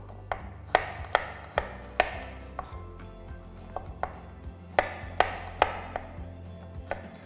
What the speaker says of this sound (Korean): 마늘을 다지셔도 좋고 얇게 써셔도 좋아요. 저는 지금 한번 얇게 썰어 볼게요.